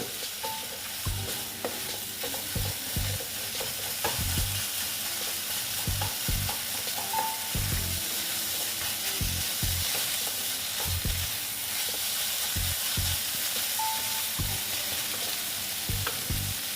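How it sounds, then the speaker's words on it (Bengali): Radish ghonto is stirred in a pan after sugar goes in, a spoon scraping and knocking in irregular strokes over a continuous close sizzle, with no talking. "মিষ্টি দিয়ে আবার আমি এটাকে একটু নেড়ে ফেলে নিচ্ছি"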